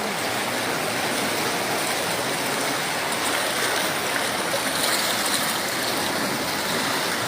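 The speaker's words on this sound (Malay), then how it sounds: "di dalam kawasan sana air dah naik." Floodwater in Sungai Buloh, Malaysia, rushes fast through a village area, a loud, unbroken roar of turbulent water that holds steady throughout with no talk over it.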